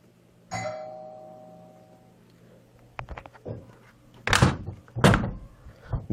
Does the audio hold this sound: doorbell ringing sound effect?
yes